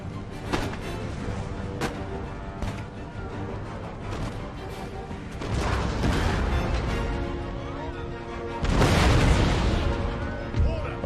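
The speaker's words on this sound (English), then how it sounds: "we need to adjust this cannon fire so it goes through the gate." Cannon fire in the strategy game Empire: Total War, a series of booming blasts and bursts with rumbling decay over battlefield ambience, the heaviest volley near the end.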